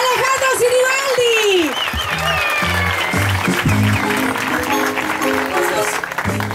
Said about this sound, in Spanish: primero vamos a escuchar esos aplausos